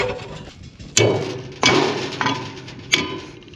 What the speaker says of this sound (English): I need a bigger hammer.